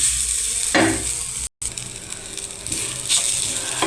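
Grated coconut cooking in a pan for fish curry, with a steady sizzle and a spoon scraping and stirring in repeated strokes, close and fairly loud, broken by a brief gap.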